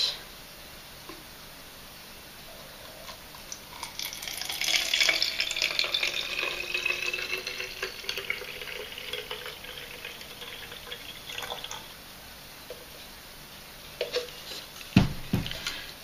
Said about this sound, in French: je vais verser le thé dans le vaporisateur sans renverser